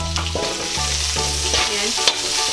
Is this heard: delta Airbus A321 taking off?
no